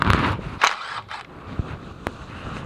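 Tools working on a set screw holding the crank sensor of a BMW S85 V10 engine, heard as a few sharp metallic clicks and scrapes close by, with a quieter stretch between taps.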